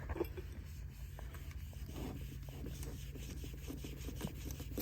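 Steady, faint rubbing and polishing on the faded paint of an early Schwinn Stingray bicycle, a continuous soft scraping rasp with small irregular strokes throughout.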